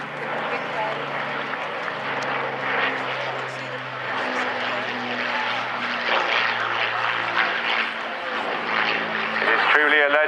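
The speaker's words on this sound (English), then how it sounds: "So as the Spitfire now gives way to the mighty bomber, the Avro Lancaster" An Avro Lancaster WWII heavy bomber flies over the Bournemouth Air Festival, its piston-engine propeller drone loud and continuous beneath a commentator speaking over the public address throughout.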